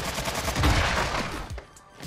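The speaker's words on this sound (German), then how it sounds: "ich schieß wieder auf euch." Automatic gunfire in Warzone 2, a rapid burst of close, loud shots that rattles for over a second before cutting off, followed by a faint trailing sound.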